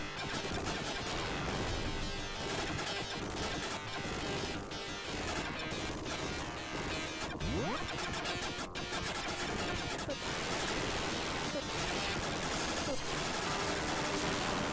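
Explosions from the Mega Drive shooter Fire Shark come as a dense, continuous barrage of harsh, noisy bursts, loud and unbroken, mixed with chiptune music throughout.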